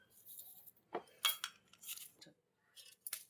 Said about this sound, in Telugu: షుగర్ వేసుకొని కలుపుకుంటున్నా.